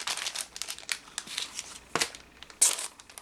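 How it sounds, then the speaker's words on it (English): Papers being sorted crinkle and rustle close by in short, uneven bursts, fairly quiet, with a sharper crackle near the end and no talk. "Sorry for the crinkling."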